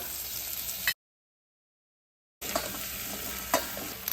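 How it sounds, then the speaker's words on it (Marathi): Bottle gourd pieces sauté in a pan over a low flame, making a close, continuous sizzle with stirring scrapes. About a second and a half of complete silence cuts through the middle. "आता दुधीच्या फोडी घातल्यानंतर हे छान परतून घ्यायचं"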